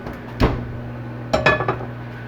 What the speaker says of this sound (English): I'm going to take it out of the oven now